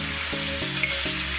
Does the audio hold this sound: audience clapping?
no